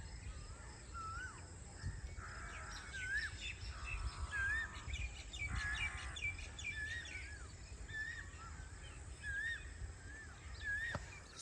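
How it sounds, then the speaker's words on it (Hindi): An Asian koel calls repeatedly at dawn in a rainy Pakistani village, its rising whistled notes coming at a steady pace over a soft bed of rain and rustling leaves, faint and somewhat distant. "ठंडी ठंडी बारिश सभा के साथ कोयल की खूबसूरत सुरीली आवाज़ इतनी प्यारी लगती है"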